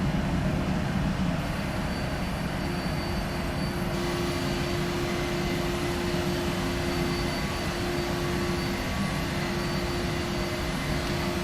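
A PMDG 737NG airliner taking off in the Prepar3d flight simulator, with a loud, continuous jet engine roar and rumble that holds steady throughout.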